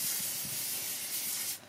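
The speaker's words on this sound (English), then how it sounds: "We're going to spray some no-stick cooking spray to make sure that the" Non-stick cooking spray hisses onto baby eggplant in one continuous close spray that stops abruptly near the end.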